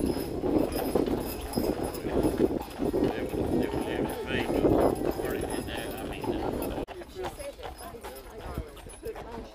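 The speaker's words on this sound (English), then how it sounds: "There's a horse and wagon we rode." A horse pulling a wagon at a tractor show clip-clops steadily under people talking nearby, with the rhythm carrying on until near the end.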